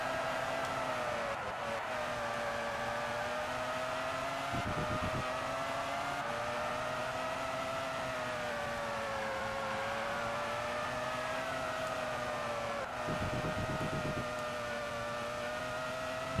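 A Formula 1 race car engine in a video game at the Buenos Aires circuit of the Argentine Grand Prix, droning continuously with pitch rising and dipping as the car lifts off through tight corners, no talk.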